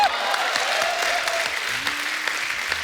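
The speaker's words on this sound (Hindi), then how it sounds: "बाबा देव साहब के लिए तालियां" Studio audience applauding for Dev Sahab on a comedy talk show, a broad, sustained wash of clapping from a large crowd, even in loudness throughout.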